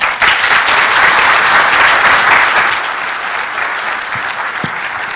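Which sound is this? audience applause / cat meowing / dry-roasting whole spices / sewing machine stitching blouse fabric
audience applause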